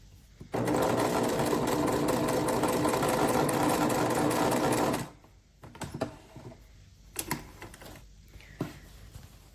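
A Singer Touch sewing machine stitches appliqué onto a double wedding ring quilt, running in one loud steady burst of about four and a half seconds, then stopping and leaving a few scattered handling clicks and taps.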